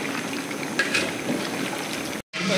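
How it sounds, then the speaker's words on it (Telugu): Mutton curry simmering in a pot bubbles and gurgles with a soft continuous boil up close, briefly cut to silence near the end before resuming. "ఇంకా మటన్ కర్రీ అవ్వలేదు, ఉడకాలి ఇంకా."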